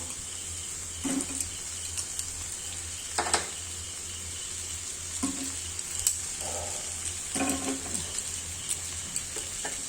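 Chopped green chillies sizzle steadily in a pan, with a constant hiss under several sharp scraping stirs at irregular intervals. Close up, with no talk.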